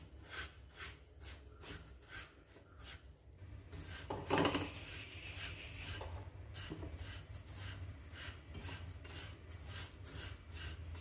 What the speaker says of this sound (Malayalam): നമ്മളിങ്ങനെ തുടരെ ഇളക്കി കൊടുത്തുകൊണ്ടേ ഇരിക്കണം, അല്ലേ നമ്മുടെ സേമിയയും റവയും കരിഞ്ഞു പോകാൻ പാടില്ല